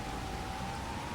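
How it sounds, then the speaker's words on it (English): Rain falling in a farming video game, a steady even hiss of drops holding at one level throughout, with no talk. "As you can see, it's raining as well"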